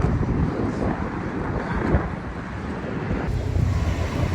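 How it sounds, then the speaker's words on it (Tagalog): Strong winter wind roars steadily against the microphone in Osaka, Japan, a dense low rumble with gusts, no voices. "Ooh, it's super windy."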